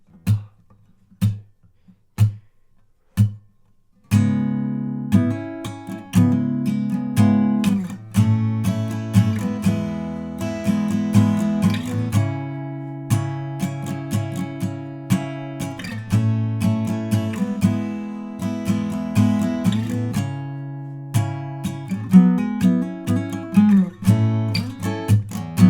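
Acoustic guitar playing the verse of a song, a few isolated plucked notes and then continuous fingerpicked chords with a steady rhythm, played alone and close up.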